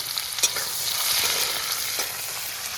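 Onions with whole spices—dried red chillies, bay leaf, cumin, cinnamon, cloves and cardamom—fry in oil in a pan, a steady close sizzle broken by a few sharp scrapes and clicks of stirring, with no talk.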